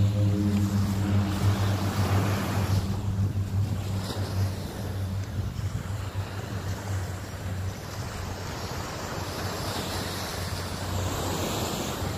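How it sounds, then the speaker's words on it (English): An airplane taking off, a loud low roar with a strong engine drone that eases after a few seconds into a broad rushing wind-like noise, steady and without talk. "Plane about to take off and stuff."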